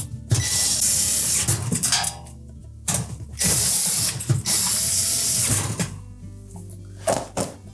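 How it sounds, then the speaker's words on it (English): A ratchet tightens the oven retaining screws on a GE range, giving close, rapid clicking bursts repeated several times with brief pauses between. "Then we'll reinstall the retaining screws."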